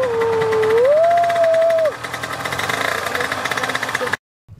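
A Derbi Senda two-stroke motorcycle starts and revs with a rising, wavering whine, then drops into a pulsing, buzzy run before cutting off. Voices can be heard nearby.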